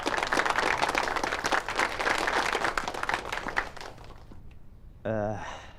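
A gathering in a county council hall claps vigorously to celebrate an official's promotion, the applause dense and lively before thinning out. A voice starts speaking just afterwards.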